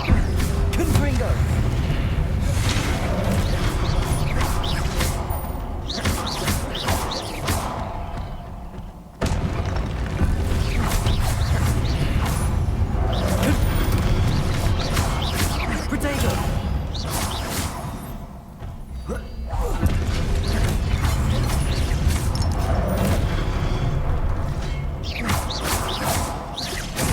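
Fire-blast spell explosions from the Hogwarts Legacy video game boom repeatedly through a dense, continuous battle mix of crashes and mechanical clatter, with a brief lull between blasts. The game's spell sounds sit under spoken incantations.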